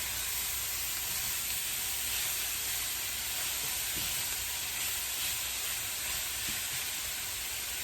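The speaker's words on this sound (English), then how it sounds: "Helps to create this steam, which, cooks the vegetables a little bit quicker." Vegetables sizzle and steam on a hibachi griddle at home after a splash of liquid aminos, a loud, continuous bright hiss that holds steady throughout with no talk.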